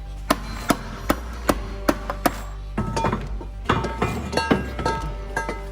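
A hammer strikes a car's metal exhaust or turbo pipework in a steady series of sharp, ringing blows, then quicker irregular taps and clinks nearby.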